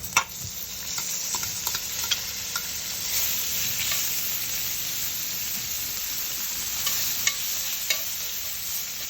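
Bacon sizzles steadily in a pan as its fat renders, a continuous close crackle with occasional scrapes and small pops, no talking.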